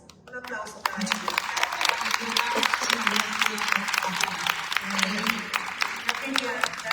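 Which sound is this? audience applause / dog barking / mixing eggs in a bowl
audience applause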